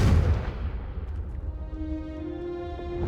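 A Confringo explosive spell in Hogwarts Legacy goes off with a loud, booming burst at the start, then fades into a rumbling tail with a steady ringing tone under the rest of the sound.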